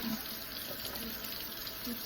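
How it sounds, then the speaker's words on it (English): Water runs steadily from a sink tap as a makeup brush is rinsed under the stream, a continuous close hiss with faint splashing and no one speaking. "When I'm rinsing it, I like to rinse it under the water as well."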